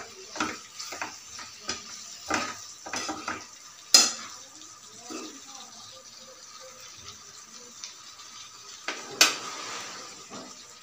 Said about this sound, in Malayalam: അപ്പം ഞാൻ ചേർത്ത് ഇളക്കും.